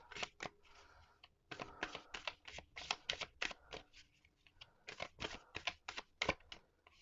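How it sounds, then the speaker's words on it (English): Oracle cards being shuffled by hand at close range, a quick run of crisp papery riffles and taps in bursts with short pauses, quiet and alone without talk. "let's shuffle out 3 cards"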